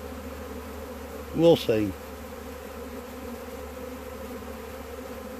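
A swarm of bees clustered in a tree near a bee yard gives off a steady, even drone from start to finish, with a short spoken phrase briefly rising over it.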